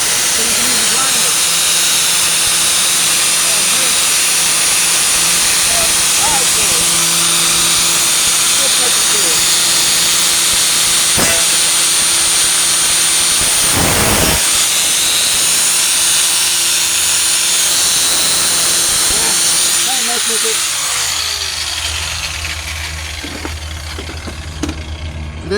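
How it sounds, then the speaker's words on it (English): Grinder working on a 1998 Ford Ranger passenger side wheel arch, a loud continuous abrasive hiss and whine that runs most of the way through and tapers off near the end, with a voice talking over it. "so you can use the grinder"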